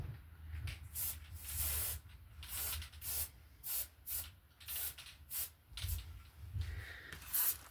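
An aerosol spray can sprays in repeated short bursts, each a loud hiss lasting about half a second to a second, with brief pauses between them, close to the microphone and with no talking.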